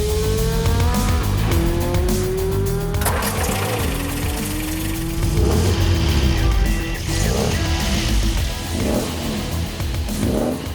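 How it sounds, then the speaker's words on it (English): A 1967 MGB GT drives along with a steady engine drone and rising revs through gear changes, mixed with road and wind noise, heard close from inside the car. "We're going to remedy that today with this 1967 MGB GT, and this is a classic 2-minute test drive."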